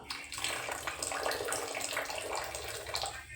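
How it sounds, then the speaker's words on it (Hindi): Water poured into a cooking pan while making a matar paneer khoya curry, a steady splashing, hissing stream that runs close and continuous for the whole stretch with no talk. "पानी और डाल दो, पानी डाल दो।"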